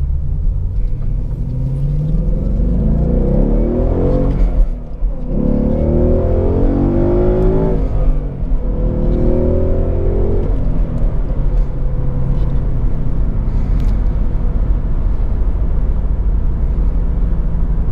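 A 2017 Ford Mustang GT California Special convertible with its 5-liter V8 accelerates hard, a loud, deep rumble rising and shifting through gears as it pulls, heard from inside the car with no talking.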